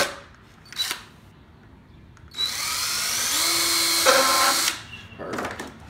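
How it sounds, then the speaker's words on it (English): A handheld power drill bores a hole through a DIY kayak crate, a few short clicks and then a steady whining run of about two seconds as the motor pitch climbs, alone and close. "So we're going to drill one last hole."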